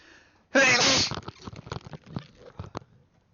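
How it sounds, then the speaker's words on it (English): A single loud, explosive sneeze close to the microphone, followed by scattered quieter sniffs and small mouth noises. "Hold on, I'm gonna sneeze."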